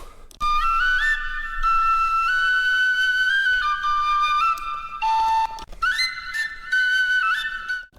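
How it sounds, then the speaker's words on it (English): An Irish tin whistle plays a bright, sustained melody with ornaments and small runs, clear and prominent, its notes holding long then shifting in quick steps, with no talk. "And also Irish whistle."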